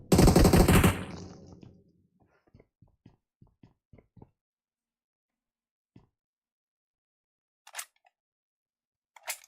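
Rapid automatic gunfire in the shooter game Blood Strike or PUBG, a loud sustained burst for about a second, then a trail of soft clicks and taps and two brief sharp bursts later on.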